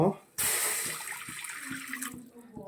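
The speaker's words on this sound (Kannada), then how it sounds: "ಈಗ ಇದಕ್ಕೆ ಮೊದಲನೇದಾಗಿ ನೀರು ಆ್ಯಡ್ ಮಾಡ್ತಾಯಿದ್ದೀನಿ" Water pours steadily into a hot pressure cooker for about two seconds, a close, rushing splash that starts abruptly and then stops.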